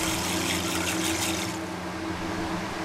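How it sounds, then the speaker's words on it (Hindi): Two glasses of water poured into an open pot for nimbu pani, a steady close splashing gush that stays loud and continuous, then softens toward the end. "सबसे पहले हम खुले बर्तन में 2 गिलास पानी के डालेंगे।"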